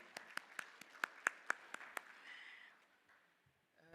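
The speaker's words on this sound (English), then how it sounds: "let's give a warm round of applause to Her Excellency, Dr. PANDOR" A few scattered hand claps ring out in a conference hall as a speaker is welcomed at a session, about ten distinct sharp claps at an uneven pace, faint and roomy, that die away into quiet with a murmur near the end.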